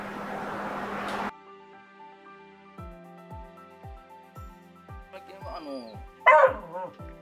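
A Yakushima dog, an endangered native Japanese breed, gives a rapid series of short, sharp barks and yips at a distance, evenly spaced at first, followed by a louder, higher whining bark near the end.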